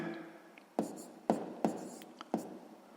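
Pen on paper jotting down numbers during a sixth-grade math exercise: a handful of quick, soft scratchy strokes in a quiet room, close and faint, with no talking over them.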